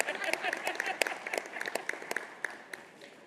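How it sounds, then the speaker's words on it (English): Scattered, fairly light applause from an audience at the 7th Africities Summit, with distinct individual claps that thin out and fade over a few seconds. "Can I get some applause so that I know you're agreeing?"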